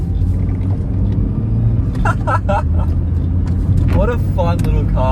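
A small 62-kilowatt VW Golf's engine drones steadily cruising at 70 km/h with road rumble throughout, while someone talks over it in bursts.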